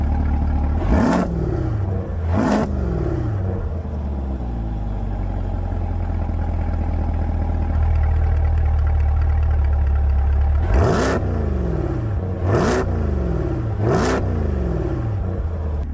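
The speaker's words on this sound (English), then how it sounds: "I'm gonna put it in tour mode so you can hear the exhaust in tour" A Chevrolet Corvette C8 Z51 exhaust in tour mode revs sharply several times, with two quick blips, a steady idle rumble, then three more rapid revs, loud and close.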